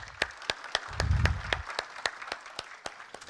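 A conference audience claps in a brief, light round of applause, sharp evenly spaced claps ringing out in a room.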